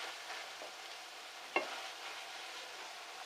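Onions and peppers fry in a pot with browned meat while cooking Spanish rice. A soft, steady sizzle hisses throughout, broken once by a single brief clink of a utensil against the pot.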